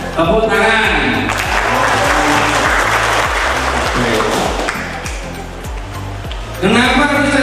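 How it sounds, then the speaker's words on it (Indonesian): Applause from an audience at a political gathering with the head of the Kudus regional parliament, a dense sustained clapping wash that fills the whole clip, with a rhythmic low thumping pulse and some voices underneath. "Tepuk tangan."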